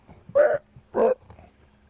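Two harsh, raspy roller bird calls in quick succession, loud and close, followed by fainter scratchy chatter in the background.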